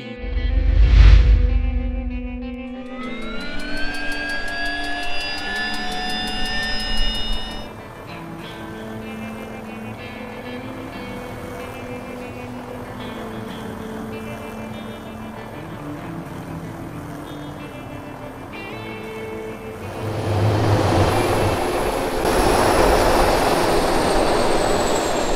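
A helicopter in the video game DayZ winds up from a loud starting burst into a rising whine, then settles into a steady, droning engine hum that swells again near the end.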